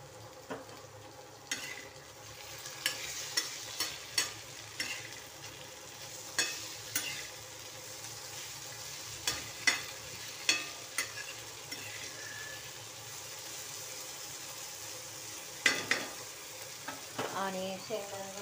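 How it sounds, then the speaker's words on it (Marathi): Cumin, mustard seeds and curry leaves sizzle steadily in hot oil with potatoes for a dry potato dish, with a continuous frying hiss punctuated by regular stirring scrapes and clicks of a spoon against the pan. "तेलामध्ये जिरी मोहरी आणि कढीपत्ता मस्तपैकी फोडणी दिली"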